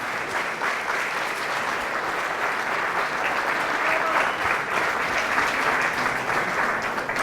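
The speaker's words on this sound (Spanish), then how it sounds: "Fuertes aplausos a Jesús de Nazaret." Strong applause from a church gathering during a Catholic talk on spiritual gifts, sustained and even clapping from a large crowd, moderately loud and continuous throughout.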